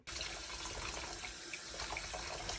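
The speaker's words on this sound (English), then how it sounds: "you want to splash some warm water on your face and open up your pores" Warm water running and splashing at a sink as a face is rinsed for a skincare routine, a continuous close hiss of flowing water with no talk.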